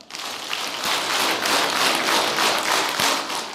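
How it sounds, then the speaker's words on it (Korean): Audience clapping together about ten times at a Bible lecture, a dense, steady burst of many hands that carries on evenly for a few seconds, with no talk over it. "박수 10번 시작."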